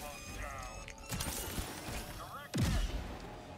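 Enemy blaster fire in the Star Wars Jedi: Survivor video game: a few sharp zapping shots and impacts at irregular intervals amid game noise, with a louder blast near the end and a voice talking over it.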